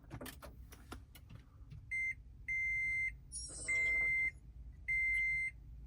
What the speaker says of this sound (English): Toyota beeps and gongs and stuff.